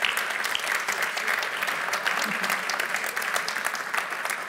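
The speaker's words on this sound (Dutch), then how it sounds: "Geef Hilde en Evelien een groot applaus, dames en heren." An audience in a hall at a Utrecht/Amersfoort gathering gives a big round of applause, a dense, sustained clapping that holds steady throughout with no voices over it.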